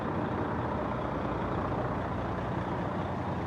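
Southampton, New Hampshire Fire Rescue air unit truck arriving at a structure fire in Brentwood, a steady loud diesel engine rumble close by, continuous and unbroken with no voices.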